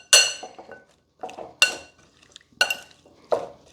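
Clinks of a utensil against a dish while a lemon juice marinade is mixed for an old-fashioned chicken and vegetable sheet pan meal, four sharp separate knocks with softer scraping stirs between them, close and clear.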